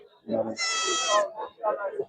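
A single long, wavering goat bleat rings out close by at a goat and sheep market in Karad, framed by people talking briefly before and after it.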